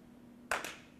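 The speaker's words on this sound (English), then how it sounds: "Start again. Clap." Two quick hand claps during a seventh-grade drama lesson, close and sharp, the second following the first almost immediately against quiet room tone.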